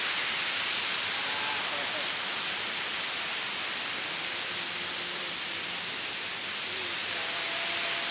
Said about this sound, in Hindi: ये वाटरफॉल है ना, खूबसूरत